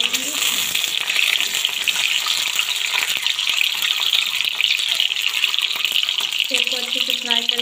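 Eggs frying in oil in a pan for dhaba-style egg curry, a loud, steady crackling sizzle that carries on unbroken, with a faint voice briefly audible near the end.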